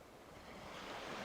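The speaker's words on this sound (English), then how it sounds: "You're hearing the waves" Ocean waves wash ashore at Imajuku in Fukuoka, a soft, steady surf that swells slightly louder, with faint wind and no voices.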